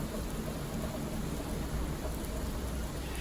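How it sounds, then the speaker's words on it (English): Steady rain roars throughout a storm, with a low rumble of thunder blended underneath; no voices. "But you can still hear the thunder."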